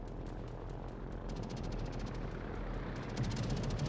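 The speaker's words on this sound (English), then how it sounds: "So it's just been non-stop planes, almost full squadron still." An almost full squadron of carrier aircraft flies overhead in World of Warships, giving a steady, loud propeller drone with a faint rhythmic pulsing that stays constant throughout, with no talking.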